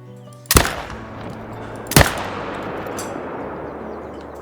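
Two sharp, loud air rifle cracks in the hunting game Call of the Wild, fired at tahr about a second and a half apart, each with a brief echoing tail over quiet outdoor ambience.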